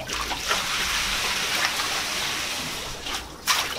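Water tossed and splashing during children's pretend cleaning play, a steady broad wash of splatter and trickle with a few louder splashes, no talk heard.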